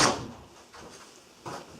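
A door opening and shutting as someone walks in at home, with a loud clunk at the start, a softer thud mid-way and another knock near the end, close by with no talk.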